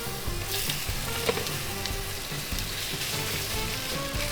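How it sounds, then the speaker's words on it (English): Korean banchan mixture ladled into a hot cast iron skillet sizzles steadily and densely, a continuous close crackle with faint clinks underneath. "Cast iron skillet is nice and hot. Let's go ahead and ladle it onto here."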